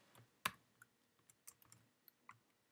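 Keys clicking on a computer keyboard during Android app building, a handful of separate taps spread irregularly, one sharper louder key strike near the start, the rest light and close.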